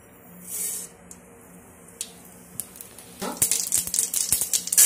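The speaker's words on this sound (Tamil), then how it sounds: "எண்ணெய் காஞ்சிடுச்சு. கடுகு போட்டுக்கலாம்." Mustard seeds spluttering in hot oil in a pan for red jowar paniyaram. A fairly quiet stretch with faint hiss gives way to a burst of sharp, crackling pops that grows denser and louder toward the end.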